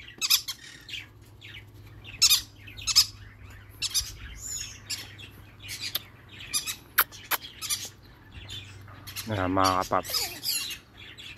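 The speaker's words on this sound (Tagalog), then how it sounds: "ganyan na nagkakaroon ng banding yung mga ibon, sama-sama sila" A free-flying flock of birds squawks and chirps in scattered bursts, close and sharp. Someone briefly speaks in between, and a louder cluster of calls comes near the end.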